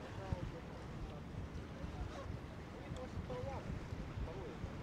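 Wind blowing outdoors at Coney Island, New York, at sunset, a steady low rumble buffeting the microphone, with faint chirping and distant background sounds throughout.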